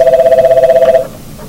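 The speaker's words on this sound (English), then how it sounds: "my phone rang and I got interrupted" A phone rings with a steady pulsing electronic tone for about a second, then stops, leaving quiet room hiss; no talking over it.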